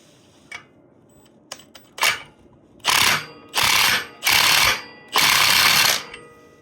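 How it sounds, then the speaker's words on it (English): A custom-made puller works a stuck part off a 1991 Polaris Trail Boss 250 four-wheeler, starting with a few sharp metallic clicks and then four long, loud grinding bursts from a power tool, close up with pauses between, no voices. "There's a custom puller we've made, and let's get it off."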